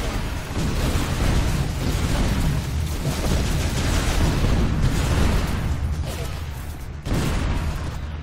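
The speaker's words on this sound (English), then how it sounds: "Might have just shot the rocket in my own face there" Rocket blasts in the Toxikk shooter game, a dense rumbling barrage of explosions and booming bursts, loud and continuous with a sharp hit near the end.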